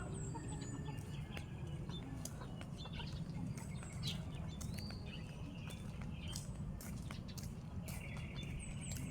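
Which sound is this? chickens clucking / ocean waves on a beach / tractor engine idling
chickens clucking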